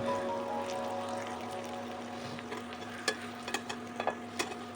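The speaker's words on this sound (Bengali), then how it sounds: "খুব লাল লাল করে এটাকে ভাজতে হবে।" Spinach paratha frying in oil in a pan, a soft steady sizzle with a few light clinks and scrapes of a utensil toward the end, fairly quiet and close.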